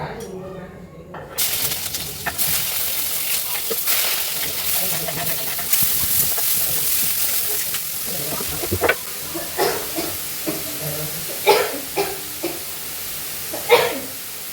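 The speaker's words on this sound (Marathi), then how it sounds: "तापलेला कांदा पूर्ण असं लालसर होईपर्यंत भाजून घ्यायचा. थोडं तळून घ्यायचं." Chopped onion frying in hot oil in a home kitchen pan, a steady broadband sizzle and hiss throughout with occasional clinks and stirring scrapes growing more frequent toward the end, close and moderately loud.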